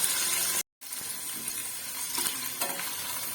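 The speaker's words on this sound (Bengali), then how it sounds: "কেটে নিয়ে এটাকে আমি একটু হালকা করে ভেজে নেব।" Small cubes of paneer frying lightly in a pan, a steady close sizzle with a brief dropout and occasional stirring clatter.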